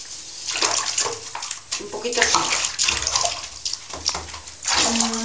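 Bathtub water sloshing and draining while a Spanish water dog is bathed, a fairly loud continuous splashing and gurgling with people talking over it.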